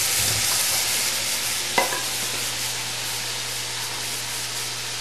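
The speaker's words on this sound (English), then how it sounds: "So we've got our chicken sauteing here." Cajun-seasoned chicken and vegetables sauté in a hot pan, giving a loud, steady sizzle and stirring throughout, with one brief utensil clink partway through.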